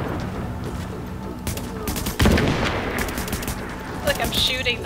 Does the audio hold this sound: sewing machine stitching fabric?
no